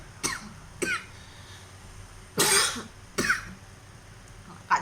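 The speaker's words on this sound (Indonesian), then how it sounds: "jadi batuk nih ya" A woman coughs in several separate short bursts, close to the microphone and spaced a second or so apart against a quiet room.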